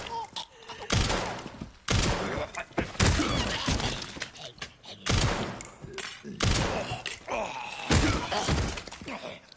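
Gunfire in the video game Resident Evil Requiem rings out as a series of loud, sharp shots spaced a second or two apart, each followed by a crashing echo. Someone talks between the shots.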